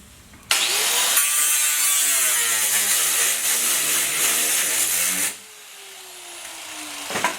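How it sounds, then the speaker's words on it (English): Metal stud flanges in a commercial door opening being worked with a tool, giving a loud, continuous grinding, scraping noise for about five seconds, then a quieter fading tail with a brief knock at the end. "So you want to pound the flanges down."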